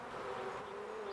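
Worker bees buzz inside an early-spring beehive nest, a steady close droning hum that holds evenly and alone throughout.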